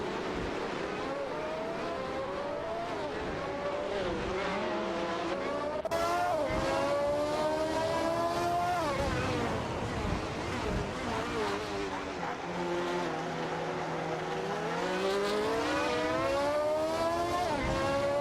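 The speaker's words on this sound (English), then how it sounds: "Racing car dashing away." A race car engine screams past at high revs, pitch climbing through gear shifts and sweeping up and down as it speeds away, loud and sustained with no talk over it.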